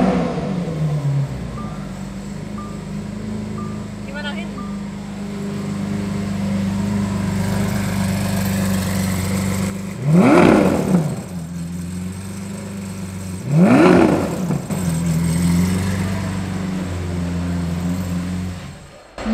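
A Lamborghini 6.5-litre V12 idles with a steady low hum, then revs sharply twice, each blip rising and falling quickly, loud and close.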